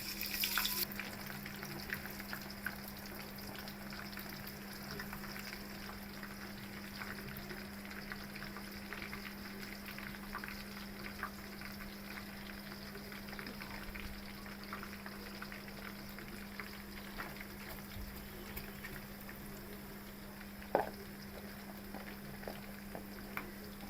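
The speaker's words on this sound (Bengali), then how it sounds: "এই যে পেঁয়াজ কুচি, এখন আমরা পেঁয়াজটা তেলে দিয়ে দেব।" Chopped onions fry in hot oil for hilsa pulao, giving a faint, continuous sizzle and bubbling with a steady hum underneath and one brief clack near the end.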